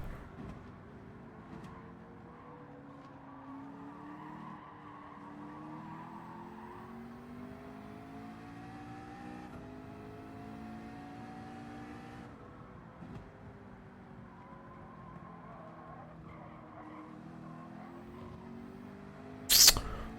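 LMP2 prototype race car in a Daytona endurance racing video game, a steady engine drone with rising and falling gear pitches, easing past at moderate volume, with a sharp burst at the very end.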